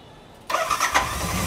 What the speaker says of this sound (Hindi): तो बाइक हो गई चालू